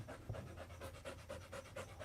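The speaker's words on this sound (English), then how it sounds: "Are you a little shrub dog, Satan?" A dog that has picked up burrs and stickers from shrubs pants rapidly and steadily at close range, short rhythmic breaths repeating without a break and with no talking.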